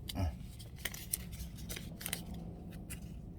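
Scissors snip through a thick piece of vinyl for a printhead repair, a few faint close cuts and rustles at low volume.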